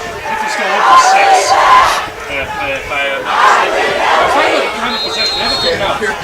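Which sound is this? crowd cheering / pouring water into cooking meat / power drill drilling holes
crowd cheering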